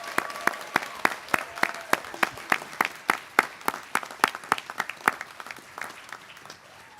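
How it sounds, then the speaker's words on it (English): An audience applauds graduates at a college graduation ceremony, a sustained round of many hands clapping in a steady, dense pattern that holds for several seconds before thinning slightly, with no voices over it. "give a special round of applause to all our graduates"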